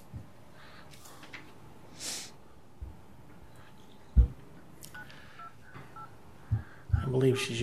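Telephone dialing tones during a call-back at a public hearing: a few quiet, spaced electronic beeps over a faint line hum, mixed with breathing and brief handling noises, with some speech.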